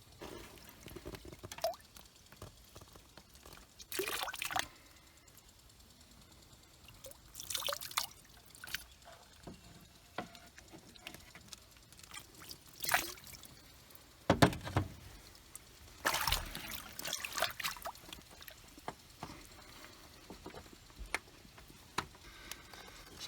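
Hot water from a bucket is poured over a vinyl pool liner in several separate bursts. Each is a short splashing gush, with quiet dripping and handling noise in the gaps between them.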